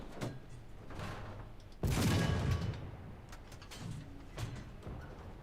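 Tank cannon fire in War Thunder realistic battle with a Valentine Mk. I, one sharp loud blast near the middle with a rolling decay, over steady engine rumble and a few fainter impacts.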